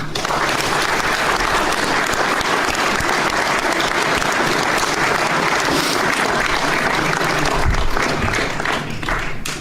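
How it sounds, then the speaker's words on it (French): An audience at a town New Year's greetings ceremony in Garéoult applauds, dense sustained clapping at full strength from start to finish. "je vous demande de les applaudir"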